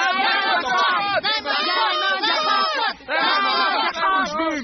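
A cartoon crowd of Smurfs at their games cheers and shouts in a dense, continuous roar of many high, excited voices, with brief dips between bursts.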